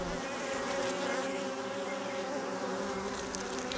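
Worker bees fly close by, their steady layered buzzing hum continuous and even across the short stretch, with no other sounds.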